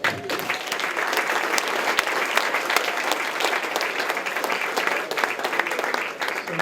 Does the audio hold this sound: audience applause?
yes